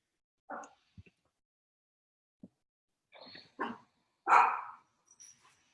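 Indoor dogs give scattered barks and short grunting yaps, building to a louder close bark near the end, heard alone with quiet gaps between.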